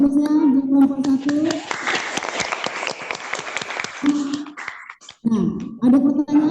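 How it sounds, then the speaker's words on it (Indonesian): A classroom breaks into a few seconds of brisk, dense applause for a student group, with voices talking before and after the clapping. "Tepuk tangan dulu aplausnya buat kelompok 1."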